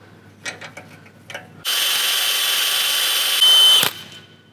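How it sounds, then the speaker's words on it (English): Power tool tightening a 16mm nut on an Ironman 4x4 bracket on a Toyota 100 Series Land Cruiser, a steady high whir running about two seconds, rising in pitch briefly at the end, after a few faint clicks. "I'm gonna grab a 16mm socket. I'm gonna tighten this thing down."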